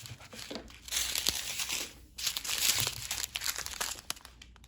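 Diamond art kit packaging being trimmed, giving soft crinkling and crackling plastic sounds in two sustained bursts separated by a brief pause, close and fairly quiet.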